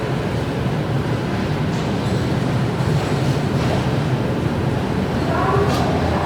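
Train departing a station on Indian railways, a dense, continuous rushing rumble with wind-like noise throughout, loud and close, with no distinct voices.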